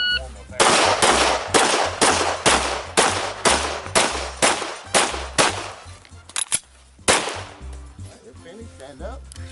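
Gunfire at a local IDPA shooting match at Rose City: about a dozen loud, sharp shots ring out in a quick, fairly even string, then a few more scattered shots and clatter follow.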